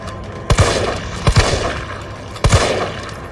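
Gunfire in Resident Evil 3 Remake striking Nemesis: three separate loud bursts of a couple of quick shots each, spaced about a second apart, with low booming impacts over a steady game background.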